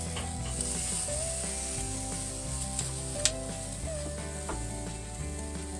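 Squirrel meat sizzling on a BBQ grill, a steady close crackle and hiss under a low mechanical hum, with a few sharp clicks from the meat being flipped and the grill handled.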